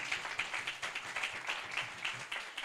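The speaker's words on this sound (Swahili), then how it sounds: "Situongeze mtumishi wa Mungu makofi mazuri." A church congregation claps in a quick, even rhythm, the regular hand claps faint and slightly distant with no talking over them.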